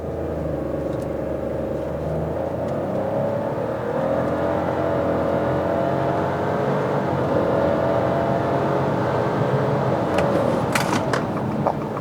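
A Fiat Pulse or VW Nivus in Sport mode launches hard from a standstill, its engine rising in a loud, close, sustained rumbling rev that climbs steadily for several seconds with no talking.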